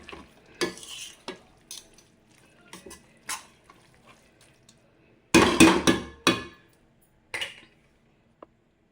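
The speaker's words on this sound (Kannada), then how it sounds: "ಎಲ್ಲರಿಗೂ ಫ್ರೈ ಆಗಬೇಕು." Gongura pachadi, a sorrel leaf chutney, is stirred in a pan as it fries in oil, a spoon scraping in sharp separate strokes with a louder cluster of scrapes midway and quiet gaps between.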